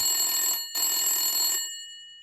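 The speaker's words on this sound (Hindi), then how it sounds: "उधर लाइन चाचा चौधरी के टेलीफोन से भी मिल जाती है" A telephone bell rings loud and close in two long bursts with a short gap between them, then fades out into silence.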